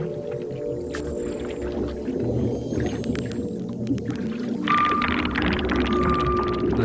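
Arctic whales calling beneath sea ice, a dense chorus of overlapping tonal whistles, moans and rapid clicks, with sustained high squeals and buzzing pulses that swell louder toward the end.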